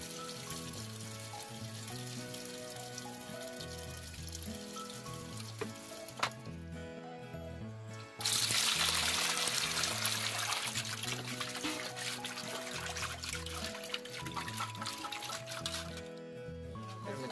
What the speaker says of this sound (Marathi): आता आई मासे धुता.